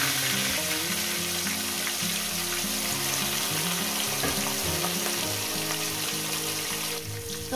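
Rohu fish sizzling steadily in hot oil in a pan, a continuous loud fry with faint clinks, while background music plays throughout.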